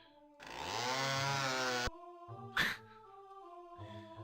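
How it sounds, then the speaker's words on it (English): A chainsaw in the classic DOOM video game revs with a loud, sustained buzzing roar for about a second and a half, then cuts off, followed by quieter game sounds and a brief sharp burst. "That chainsaw noise."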